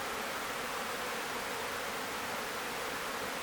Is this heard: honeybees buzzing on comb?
yes